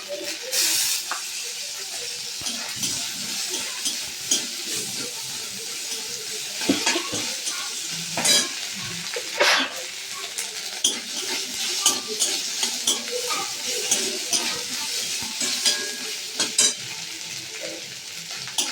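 Spices and chopped tomato frying in a pan for a chana dal dish, a constant close sizzle and hiss broken by repeated scrapes and clinks of a utensil stirring against the metal.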